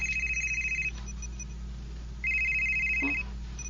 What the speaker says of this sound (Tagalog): Ang imong phone, Professor Charles